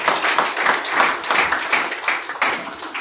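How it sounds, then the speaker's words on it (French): A church congregation at a worship service applauds together, with dense, steady clapping filling the whole stretch at a fairly loud, close level. "nous allons applaudir pour nous"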